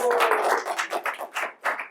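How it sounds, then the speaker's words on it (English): An audience at a public seminar claps in a short burst, dense at first, then thinning into a few scattered claps. "Give her a round of applause, guys."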